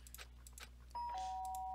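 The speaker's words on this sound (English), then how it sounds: "Sharp sound of the doorbell pierced my sleepy haze and pulled me back to the real world." A doorbell rings in the Danganronpa video game, a single clear chime tone that rises sharply out of quiet background ambience and holds to the end.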